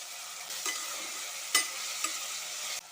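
Vegetables frying in hot oil give a steady, close sizzle, broken by a few brief scraping clicks as a spoon stirs the pan.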